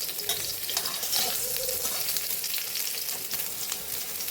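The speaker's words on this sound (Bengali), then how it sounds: "এই দেখো আমি ভেজে নিচ্ছি সোয়াবিনগুলো" Soybean chunks fry in hot oil in a wok, giving a dense, continuous close-up sizzle with a light crackle and faint stirring.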